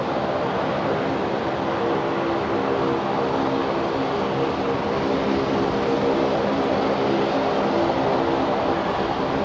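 A Qantas Airbus A330 from Auckland on final approach to Brisbane's runway 19 left gives a continuous, even engine drone with faint high whine on top, steady and fairly close, with no voices.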